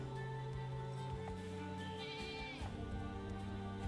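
Goats bleat inside the video game Albion, set against a steady bed of layered game music and ambience with no talking.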